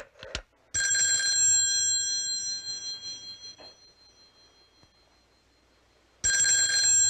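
A telephone rings unanswered indoors, a loud bell-like ring lasting several seconds that fades out, then a long silence before the next ring starts.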